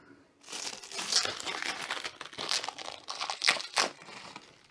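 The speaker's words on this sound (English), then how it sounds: "Let's take this plastic off." Thin plastic protective wrapping being pulled off a newly installed LED ceiling light with a built-in fan, heard as close, irregular crinkling and rustling over several seconds with sharper crackles, and no talking.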